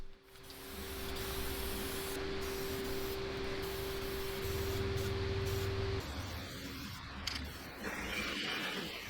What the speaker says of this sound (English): We have since upgraded from spray cans to a spray gun used only for red oxide primer.